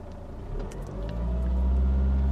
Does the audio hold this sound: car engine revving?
yes